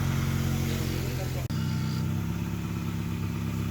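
A project car's engine idles steadily and loudly after an idle repair, with a low rumbling drone throughout, a brief dropout near the middle, and voices speaking over it.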